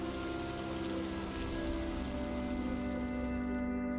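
Rain falls in an animated Lion Guard scene, a steady, continuous hiss that holds at an even level throughout with sustained musical tones beneath it.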